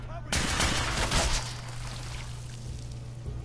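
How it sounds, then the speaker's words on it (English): Gunfire in Fallout 4 opens with a sudden loud burst of rapid shots that lasts about a second, then gives way to a noisy wash and steady hum with faint scattered pops. "Who the fuck is shooting at me now?"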